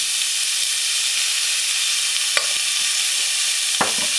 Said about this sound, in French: commencer à cuire votre viande hachée jusqu'à au plus